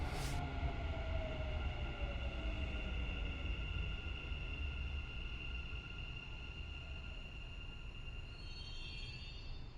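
Dubai metro train riding toward the EXPO 2020 station, a steady loud rumble of wheels on rails with a rising whine and faint squeal, continuous throughout with no talk.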